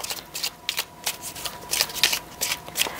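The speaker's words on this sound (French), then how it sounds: "Je vais prendre mon oracle des âmes éternelles pour compléter un petit peu le tirage." Oracle cards being shuffled by hand, a close run of rapid riffling bursts that repeat in an uneven rhythm throughout, with no talking.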